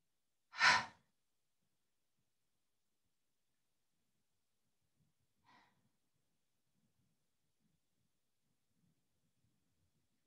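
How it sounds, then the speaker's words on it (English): A single exaggerated, forceful exhale during a yoga practice, a loud breathy push of air near the start, then near silence with only a faint soft breath later. "exaggerated exhale as if you're trying to push the exhale out"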